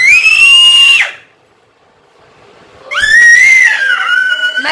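Young girl letting out two loud, piercing, sustained screams close to the mic, separated by a quiet pause of about two seconds.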